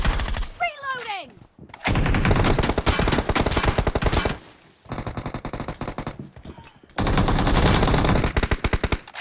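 Automatic gunfire from a video game erupts in several loud, rapid bursts separated by short gaps, with a brief electronic or vocal chirp near the start before the shooting begins.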